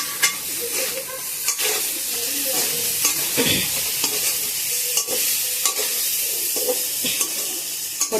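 Chicken liver fry with coriander is stirred in a hot pan, a loud continuous sizzle broken by repeated scraping strokes of a spoon at an even pace, with no voices.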